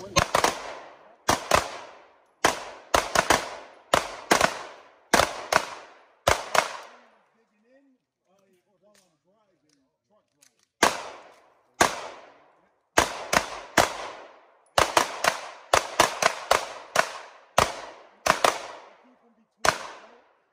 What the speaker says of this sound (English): some guys started shooting nearby.